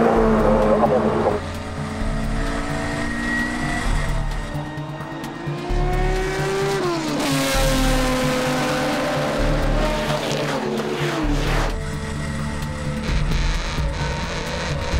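Classic touring cars, including BMW CSLs, racing in the Heritage Touring Cup at Spa, with loud high-revving engines climbing and dropping through gear changes as several cars scream past close by, one after another.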